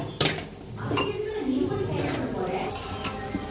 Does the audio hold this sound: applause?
no